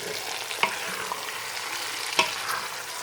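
Garlic slices frying in a pan for a chicken tajine, a steady, fairly soft sizzle broken by two sharper utensil clinks.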